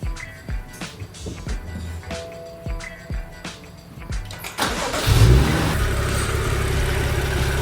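A BMW F30 335i with the N55 engine cranks after an oil change, preceded by a series of clicks and taps, then fires up with a surge and settles into a steady, smooth idle.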